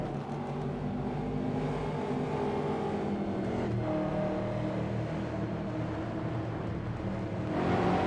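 Stock car engines racing at Interlagos in the iRacing sim, a steady, continuous roar droning on throughout with no voices.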